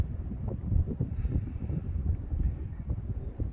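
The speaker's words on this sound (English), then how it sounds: "All of a sudden, this crazy wind just picked up." Strong gusts of wind batter a microphone outdoors, a loud low rumbling buffet that surges and drops unevenly, with no voices heard.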